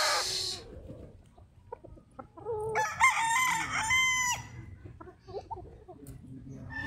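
A rooster crows loudly nearby on a game farm, with hens clucking around it and quiet farmyard background noise.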